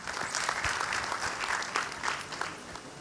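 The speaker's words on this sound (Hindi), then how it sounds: "मैं चाहूँगी तालियों के साथ उनका स्वागत करें" An audience applauds to welcome a guest onto the stage at a public event in Bahraich, a soft, steady patter of many hands at moderate distance.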